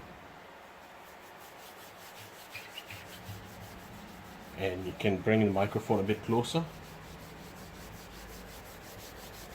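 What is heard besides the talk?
wet sanding car paint by hand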